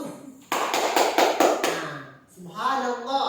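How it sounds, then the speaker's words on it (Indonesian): A small group clapping together, a few short rhythmic claps close by, then a voice speaking right after. "Kelompok yang lain itu kita harus apresiasi, kasih aplaus, tepuk tangan."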